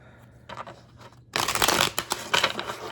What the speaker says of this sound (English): We're going to shuffle up our cards